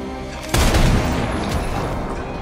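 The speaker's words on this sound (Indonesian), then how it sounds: "si sniper kembali melepaskan tembakan yang membuat Abbott tersungkur" A single loud sniper gunshot in an action film bursts out, followed by a long, rumbling reverberant tail that slowly fades.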